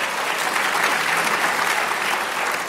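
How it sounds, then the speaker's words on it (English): An audience applauds the introduction given by Paul Borman, a doctor, with a thick, continuous burst of clapping from many hands at an even, fairly loud level. "Give Paul Borman, a great doctor, a round of applause for that introduction."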